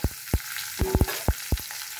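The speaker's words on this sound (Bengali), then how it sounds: "সর্ষে, দুটো চেরা কাঁচা শুকনো লঙ্কা আর গোটা রসুন ফোড়নে দিয়ে দেব" Mustard seeds, two split dried red chillies and whole garlic cloves tempering in hot mustard oil for jute leaf fry, giving a steady sizzle broken by several sharp crackling pops and stirring knocks, close up with no talk.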